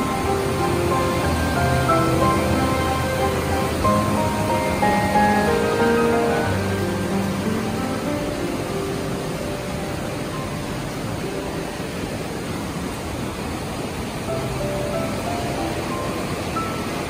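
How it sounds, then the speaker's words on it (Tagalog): Steady broadband roar of rushing water at a dam on the Wawa River, continuous and loud throughout, with no voices. "Narinig niyo yung ugong ng tubig."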